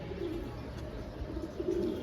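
Soft, low fantail pigeon coos rise twice over a steady background hiss, fairly quiet and with no talking.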